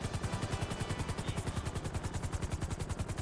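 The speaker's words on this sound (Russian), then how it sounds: "Ну вот такой вертолет." A helicopter in GTA 5 Online thumps with a steady, rapid rotor chop, loud and close throughout, with a whining engine beneath the beat.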